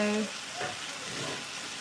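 Rice frying in a pan gets stirred, giving a soft, steady sizzle with faint scraping, fairly quiet and close, alone without talk.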